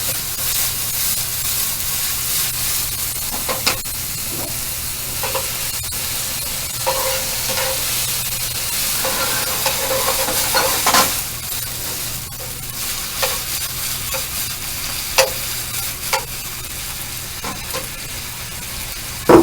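Shredded carrot and vegetables stir-fried in a hot wok for an Asian dish: a steady close sizzle and hiss runs throughout, with scraping tosses and clinks of the utensil at irregular intervals and no voices.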